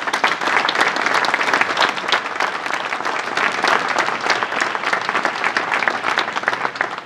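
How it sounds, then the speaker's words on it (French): An audience at a town mayor's New Year wishes ceremony in Sauveterre applauds steadily, a dense, sustained clapping that holds at even loudness throughout with no talk over it. "Je vous demande de les applaudir"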